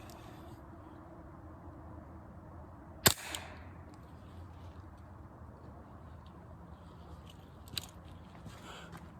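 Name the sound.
Hatsan Sortie .25 air pistol shot hitting a coconut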